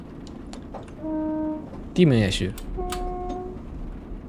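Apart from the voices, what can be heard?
train horn in the video game Train Simulator Classic 2024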